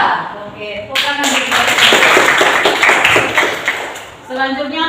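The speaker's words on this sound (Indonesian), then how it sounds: "Oke, tepuk tangan." Students at a junior high school in Karimun clap together as a group, a dense burst of hand claps lasting a few seconds, close and loud, with a voice speaking before and after it.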